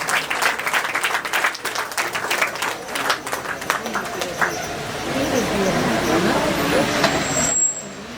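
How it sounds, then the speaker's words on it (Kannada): Audience applause at a women's association felicitation event in Padil, Mangaluru: scattered claps build into steady clapping that fades out near the end, with background outdoor noise and some mixed voices. "ಜೋರಾಗಿ ಚಪ್ಪಾಳೆಯ ಮೂಲಕ ಅಭಿನಂದಿಸಿ."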